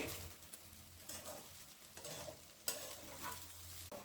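Egg fried rice is stirred and tossed in a pan, soft scraping strokes over a gentle sizzle, close and fairly quiet, with one sharper knock partway through.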